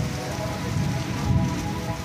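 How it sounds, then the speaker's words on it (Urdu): Heavy stormy rain in Dammam pours steadily and loudly, a dense continuous hiss and patter of drops on surfaces with no breaks. "یہ طوفانی بارش ہے"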